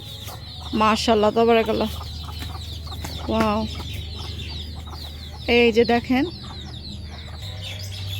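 Chickens in a village yard cluck in short, loud bursts close by, with a longer round of clucking near the end, while people talk in the background.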